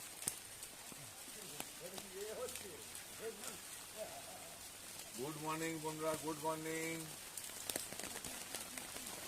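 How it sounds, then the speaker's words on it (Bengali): Rain patters steadily in the background while a person speaks a greeting over it, the hiss continuing throughout. "প্রচুর বৃষ্টি হচ্ছে আজকে"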